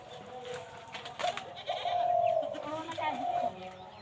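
A goat kid bleats several times, close and clear, its cries rising over rural background murmur and a nearby voice talking.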